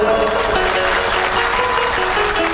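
Audience clapping at a satsang in Shivnagar, a dense, steady burst of many hands clapping together at even loudness, with a faint sustained tone beneath.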